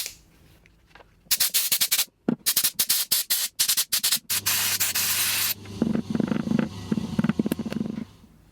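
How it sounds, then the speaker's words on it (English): An air compressor blows Orbeez out of cast resin, with a series of close, loud, sharp hissing air bursts followed by a longer steady blast and a low rumbling hum. "I'm going to have to fire up my air compressor and see if we can shoot them out"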